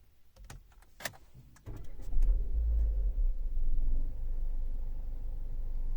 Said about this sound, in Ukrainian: Зараз спробуємо завести, послухаємо,